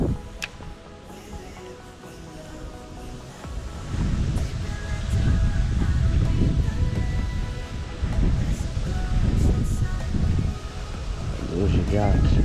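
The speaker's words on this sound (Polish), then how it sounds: "Duży wiatr." Strong wind gusts across a lake shore, a broad low roar that swells after the first few seconds and stays loud and buffeting, with water and rustling in the mix and some talk underneath.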